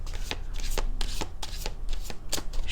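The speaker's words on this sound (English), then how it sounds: "While I shuffle" Oracle chakra cards being shuffled by hand, a close series of crisp papery riffles and rustling bursts repeating every half second or so, with no voice over them.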